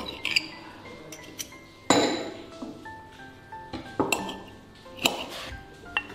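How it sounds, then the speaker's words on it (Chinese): A knife and fork clink and tap against dishes at a home dinner table, with scattered sharp metallic pings and a couple of louder knocks spread irregularly, and no talking. "这个刀叉是上次买牛排送的"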